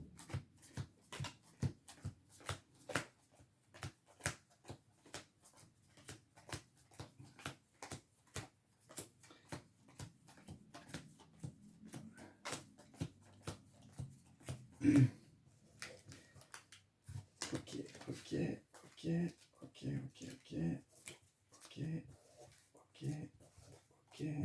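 Cards for the Arkham Horror-style board game are shuffled in repeated quick riffles and slides, a close, dense run of papery ticks lasting throughout, with a louder snap midway.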